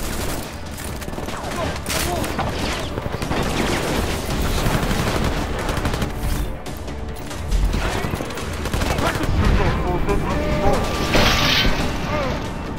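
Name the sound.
gunfire in combat, video game Deus Ex Mankind Divided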